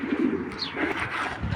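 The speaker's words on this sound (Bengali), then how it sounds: "দেখুন চলুন কবুতর দুইটা আগে দেখাই একটু" Racing pigeons, a club-bred pair, give soft close coos and throaty murmurs in a short burst.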